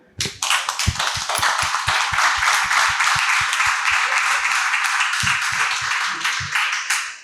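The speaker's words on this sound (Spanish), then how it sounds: "Yo creo que se merece un aplauso y un reconocimiento en este caso, Oliver" Applause breaks out in a studio during a Spanish talk show, with sharp individual claps near the microphone over a broad wash of clapping that carries on steadily for several seconds before tapering off.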